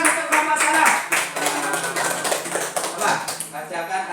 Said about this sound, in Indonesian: Tepuk tangan untuk kelompok Assalam.